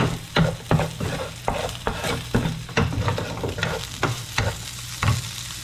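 Filipino kamias dish frying in oil until golden brown, a steady sizzle under repeated sharp scrapes and clacks of a spatula stirring the pan at an irregular pace, close and clear with no speech.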